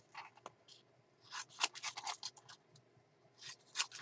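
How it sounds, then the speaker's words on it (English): Scissors snip repeatedly through paper, trimming the corners of a pocket for a peacock-themed handmade journal, with a string of short, close, crisp cuts and small rustles between them. "I'm going to go ahead and trim those corners as well."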